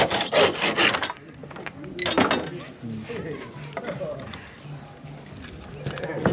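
Hand sawing through wood while building a wooden mallet for breaking up soil: rough, rasping strokes in uneven bursts, close by, with a person talking over parts of it.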